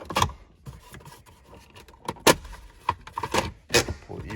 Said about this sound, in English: this console itself just pops out with clips